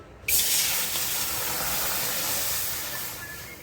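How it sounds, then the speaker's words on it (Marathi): Water poured into a kadhai on the stove to heat for making rice bhakri. A sudden close, loud rushing hiss starts almost at once and holds steady for about three seconds, with no talk. "यामध्ये मी आता घालणार आहे पाणी हे बघा"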